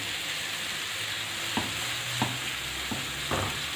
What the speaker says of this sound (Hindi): इसको सौते करेंगे हम।